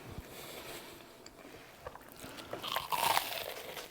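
Someone bites into a sandwich made from fish food, a crunchy bite building near the end over faint background noise, close and fairly quiet.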